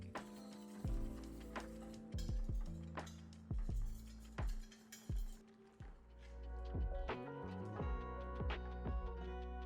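Banh cuon batter mixed with oil in a bowl: a quiet series of sharp clicks and taps from the utensil striking the bowl, irregular in rhythm, with soft swishing between them and a few louder knocks, all fairly close.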